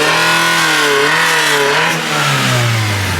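Revving from the 1.5 engine of a Honda EG hatchback with a fault, loud and close, holding a steady drone that dips slightly and rises again, with no talk.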